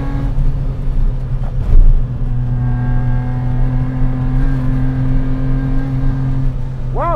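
Custom 1986 BMW E30 driven hard, its engine holding a steady, close droning note from inside the car with brief louder bursts and road noise throughout.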